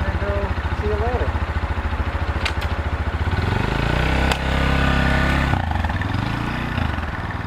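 A 2024 CFMOTO Papio CL motorcycle engine runs close by with a steady throbbing idle that rises into a brief rev and then settles back down, with no talk over it.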